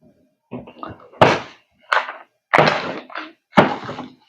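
Magazine clicked into an airsoft gas blowback rifle: a series of sharp, close plastic-and-metal thunks and knocks spaced about half a second apart, with no talking over them.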